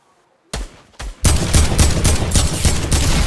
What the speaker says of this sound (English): I thought that was a shotgun.